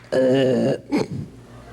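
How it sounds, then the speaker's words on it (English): A single loud, drawn-out burp at close range, a sustained belch followed by a shorter guttural tail, heard at an awards ceremony with no talking over it. "How many times have I told you not to burp before the ladies?"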